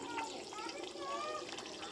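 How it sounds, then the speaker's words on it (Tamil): Tender coconut water poured into boiling castor oil during homemade oil preparation gives a steady, hissing, bubbling rush of liquid lasting two seconds, with faint voices in the background. "இந்த இளநீர் எடுத்து ஊற்றுங்க"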